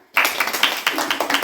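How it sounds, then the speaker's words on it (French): A small group at an anniversary event claps, a sparse, close patter of individual hand claps in an uneven rhythm lasting just over a second. "Je vous propose de l'applaudir d'abord."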